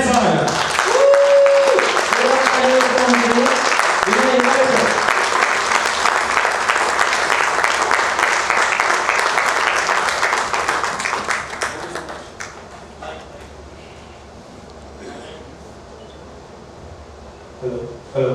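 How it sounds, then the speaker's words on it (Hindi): An audience at an indoor business event applauds loudly for about twelve seconds, a thick wash of clapping with brief tones and a voice over it early on, then fading into quiet room noise. "सो आप सबके तालियों के साथ मैं स्टेज पे इन्वाइट कर रहा हूँ मिस्टर विनय हिमालय सर।"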